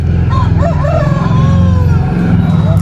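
A yellow kharia chicken at a busy village haat, a crowing call rising and falling through a dense, loud market din of mixed voices and noise.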